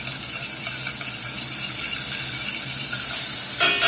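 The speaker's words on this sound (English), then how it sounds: "While them chops is frying" Pork chops sizzle steadily in a hot pan, a dense, continuous crackling fry held close and fairly loud for the whole stretch, with a brief clatter near the end.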